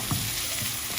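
Ginger garlic paste fries in a pan, giving a loud, dense, steady sizzle with no talk.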